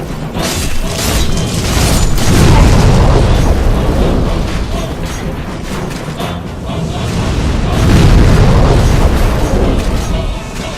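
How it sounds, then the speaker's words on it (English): Deep, booming impacts from the Tower Knight boss's attacks in the Demon's Souls video game, swelling in heavy loud waves over a dense, continuous battle soundscape. "the booming sounds of Tower Knight's attacks play off the short"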